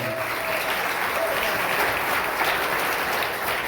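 Sustained, dense applause from a church congregation, loud and even throughout with no pause.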